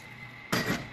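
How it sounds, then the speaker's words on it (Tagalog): A sudden burst of water pouring into a cooking pot for chicken tinola, starting midway and running steadily for about half a second against a quiet kitchen background. "ilagay na natin yung ating tubig na 4 cups"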